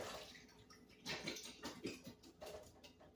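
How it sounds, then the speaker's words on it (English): Canned mandarin oranges draining through a strainer, with a soft, close spill of liquid pattering and splashing in uneven bursts throughout. "So I'm just going to drain it in the strainer from where I did the pineapples."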